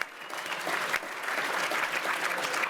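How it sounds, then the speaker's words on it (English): Sustained applause from the audience at a chamber of commerce luncheon for the speakers, a steady dense patter of many hands filling the room for a few seconds. "How about a big round of applause for our speakers?"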